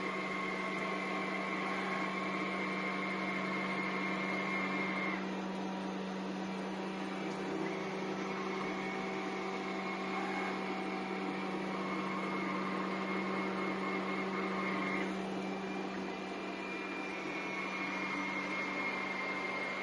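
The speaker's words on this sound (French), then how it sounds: "le robot n'est pas trop bruyant finalement. Écoutez, je vous laisse découvrir." A Lefant M5 Pro robot vacuum mop cleans indoors with a steady, moderate motor hum and whine, unbroken and fairly even throughout, with slight shifts in tone now and then and no talking.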